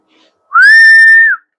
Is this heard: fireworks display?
no